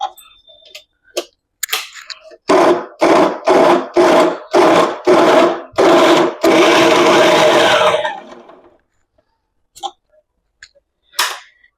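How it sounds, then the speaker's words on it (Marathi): A kitchen mixer grinder blends a boiled paste in seven short, loud bursts of whirring, then one longer run before stopping, followed by a few scattered clicks and knocks. "आता हे मिक्सरमध्ये आपल्याला वाटून घ्यायचंय."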